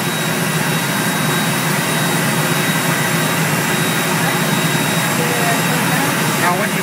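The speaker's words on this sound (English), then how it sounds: "Did you get a shot of the engine running?" A Pratt & Whitney PT6 turboprop engine runs at a steady, loud roar with a constant whine and no change in pitch.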